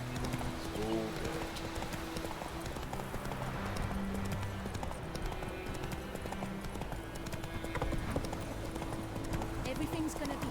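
Rapid hoofbeats of a galloping horse in The Witcher 3 video game, a continuous clip-clop rhythm under someone talking, with a brief whinny near the start.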